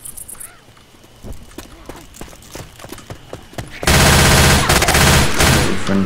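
Repeated gunshots from players firing in a Left 4 Dead 2 co-op match. Sharp scattered shots come first, then a loud sustained wall of automatic fire takes over in the last two seconds.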